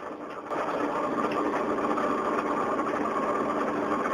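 A tractor engine running steadily on a farm, a constant mid-pitched drone with mechanical buzz that jumps in loudness after a short quieter start as gears are shifted, with no talk over it.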